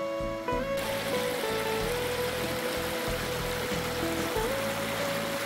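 Waterfall stream flowing down a forest path in Loei province, Thailand, a steady close rushing of water that fills the whole clip, with a faint high whistle-like tone running through it and no speech.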